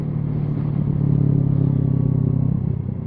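A motorcycle engine drones steadily on a ride, its pitch swelling and holding as it accelerates through the gears from first to second, loud and close without any voices.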